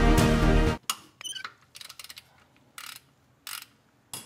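Ratchet loosening a 15 mm bolt on a Ford Mustang EcoBoost during an oil change: a loud burst of dense clicking, then several short, quieter bursts of ratcheting with gaps between them, close up.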